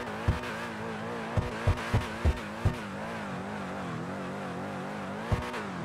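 Engine of a Benefactor LM87 race car in GTA Online revs with a wavering, rising and falling pitch, broken by several sharp pops and thumps, with no talking.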